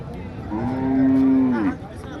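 A dairy cow rated at 34 litres of milk a day at Modnimb cattle market gives one loud, close, sustained moo of about a second that rises and then fades, over faint background murmur.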